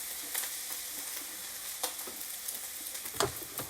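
Rice frying in a pan as soy sauce is stirred through it, a steady soft sizzle with scraping and stirring taps, faint and close, no talk.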